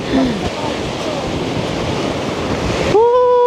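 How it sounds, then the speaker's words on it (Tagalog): Strong ocean waves break on a beach in Fiji, a loud, close, continuous roar of surf and wash that fills the whole stretch, with a brief voice at the very end. "Lakas ng alon, grabe."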